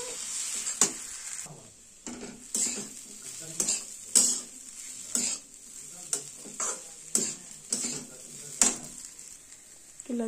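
Poha fries in a pan at home while a spoon scrapes and stirs it in repeated bursts, with clear metal-on-pan clinks over a continuous sizzle and no talking.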